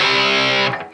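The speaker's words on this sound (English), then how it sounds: "Switch over to that super crunch a little bit more for a little more bite." A Blackstar Amped 3 guitar amp set to super crunch rings out a single sustained, distorted chord with a thick, biting tone, loud and close, before it is cut off and decays.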